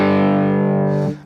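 Cigar box guitar played through a distortion effect, a single loud sustained distorted chord ringing steadily for about a second before being cut off, with no talking.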